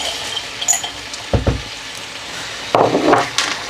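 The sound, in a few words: peas added to frying potato curry in pan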